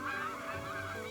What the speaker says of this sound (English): "Honk, honk," cried the geese.